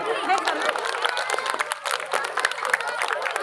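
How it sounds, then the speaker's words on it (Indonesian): Group applause with cheering and lively chatter at a Ramadan iftar gathering, bright clapping overlapping with voices and movement in a busy room. "tepuk tangan buat Kak Arif."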